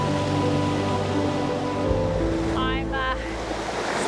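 Waterfall roaring at close range, a loud steady rush of water with a constant low hum throughout and a brief higher chirping sound partway through.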